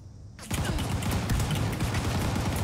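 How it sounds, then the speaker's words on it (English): Gunfire in Fallout 76, a burst of rapid shots starting abruptly and continuing as dense, loud crackling fire for the rest of the moment. "now I'm taking a lot of fire here"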